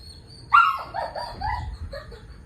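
Several dogs bark excitedly outdoors in a garden, a burst of sharp barks and yips at moderate distance, loudest early and then continuing in shorter calls.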